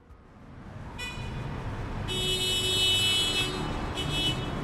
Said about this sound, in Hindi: पीछे से आती हॉर्न की तेज आवाज